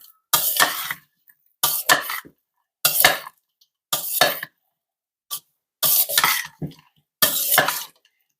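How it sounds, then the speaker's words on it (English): Roasted Brussels sprouts, kielbasa and mushrooms stirred in a pan, seven short scraping, clattering bursts spaced about a second apart with quiet gaps between them. "And give it a stir."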